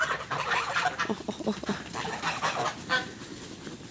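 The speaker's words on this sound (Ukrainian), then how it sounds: "Оце начебто старий гусак" Geese, among them an old gander, honk in a loose cluster of harsh, nasal calls that overlap and repeat at moderate distance.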